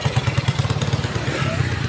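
A motorcycle engine chugs close by in a steady low, pulsing rhythm, fairly loud throughout, with faint voices in the background on a road after heavy rains and landslides.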